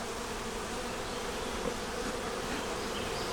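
Honeybees crowd around a hive, making a dense, steady buzzing drone that fills the scene, close and continuous, with no voices.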